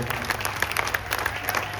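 Dense, steady applause from an audience at an evening address during the Sanatan Ektaa Yatra religious gathering, many hands clapping together close by and continuously, without any talk over it.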